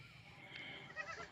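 Goats on a goat farm in Assam, one or two soft, fairly distant bleats over a low, steady background murmur.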